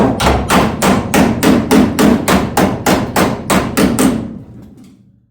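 Loud, evenly spaced hammer blows, about a dozen in steady rhythm, ring against a dolly as a car cowl metal panel on an HQ GTS coupe is cold formed, close up with no talking, ending in a brief fading ring.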